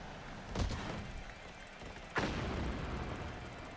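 Two muffled explosions in the FlatOut 4 racing game, heard as a pair of sharp booms about a second and a half apart over a quiet, faint background rumble.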